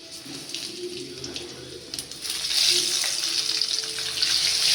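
Cumin seeds dropped into hot oil for chitranna gojju, giving a steady hiss that grows louder and fuller toward the end, with no talk over it.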